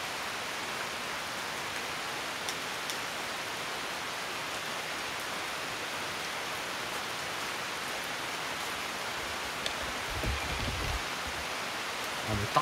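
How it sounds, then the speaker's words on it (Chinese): Heavy rain pouring steadily outdoors in a mountain area, a dense even hiss throughout, with a faint low rumble near the end. "这大雨兄弟"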